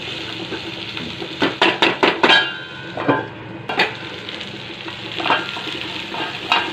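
Chicken and onions frying in a pan and being stirred, giving a steady sizzle broken by a run of clattering stirring strokes, fairly close and with no voices.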